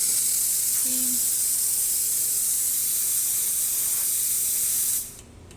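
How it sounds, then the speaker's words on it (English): Loud, steady high-pitched hiss from a Rocket Appartamento espresso machine steam wand sprays continuously for about five seconds, then cuts off abruptly, with a brief faint tone early on. "here's the steam."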